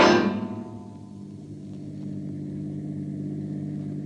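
A car engine from a 1946 radio drama drives steadily, its low hum rising and settling into an even mid-level drone, with no voices.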